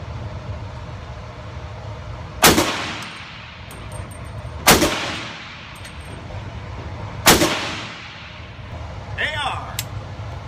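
Three loud M1 rifle gunshots fired outdoors at even intervals, each a sharp crack with a ringing tail, followed by a faint metallic clink; a voice is heard briefly between shots.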